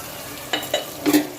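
Okra and potato masala sautéing in a pan over a high gas flame, giving a few short stirring scrapes and soft bursts of sizzle against a steady low background hiss.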